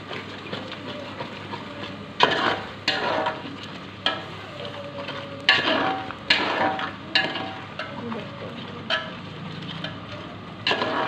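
Chicken kasha with turmeric sizzles in a pan as a utensil scrapes and stirs it in repeated irregular strokes, each stir a loud, close clatter over the steady frying hiss.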